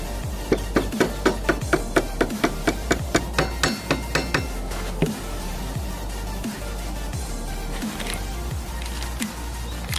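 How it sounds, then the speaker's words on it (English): Hammer tapping a front wheel axle into place on a Honda CBR600FA motorcycle: a rapid series of about a dozen sharp, even metallic blows, then quieter scraping and handling. "With a hammer."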